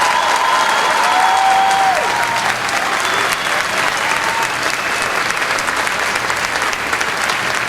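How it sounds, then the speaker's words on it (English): Sustained applause from a large audience for graduating seniors of a high school marching band, with a dense, even wash of clapping and some faint cheering throughout. "One more big round of applause for the class of 2012."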